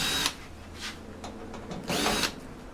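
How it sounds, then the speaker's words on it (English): Power drill backing screws out of a computer case during a scrap teardown: several short, loud whirring bursts close by, with brief pauses between them and no talk. "undo the screws, then put the cover back on"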